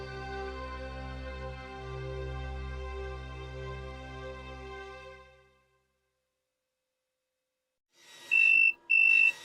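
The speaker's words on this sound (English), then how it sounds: "will you get that phone?" An electronic telephone rings twice near the end, two bright, steady warbling bursts with a short gap between them, following a fading, droning tone and a moment of silence.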